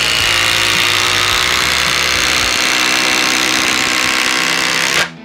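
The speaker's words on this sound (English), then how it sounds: "let's do our 8-inch timber lock." Milwaukee impact driver sinking an 8-inch TimberLOK screw, a loud continuous whirring drive with rapid hammering that runs steadily for about five seconds, then stops abruptly.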